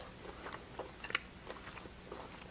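Someone chews a forkful of slow-cooked beef bourguignon in gravy, with soft crunchy bites and quiet mouth sounds close up, no talking.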